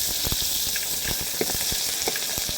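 Onion and garlic frying in a pan for adobo, a dense continuous sizzle punctuated by irregular sharp pops and utensil taps, close and fairly loud with no speech.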